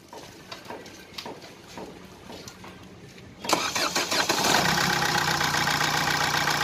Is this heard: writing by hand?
no